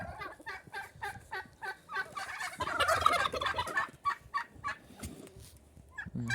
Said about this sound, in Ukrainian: Індики б'ються між собою.